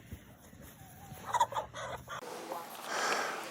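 Chickens being readied for processing give a few faint clucks and soft calls near the start, followed by a louder hissing, rustling noise toward the end.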